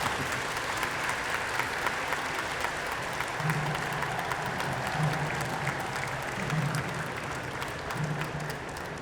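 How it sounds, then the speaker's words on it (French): An audience at Japan Expo applauds kendo demonstrators after their bout, steady continuous clapping throughout with a low rhythmic thud repeating underneath. "je crois qu'on peut les applaudir"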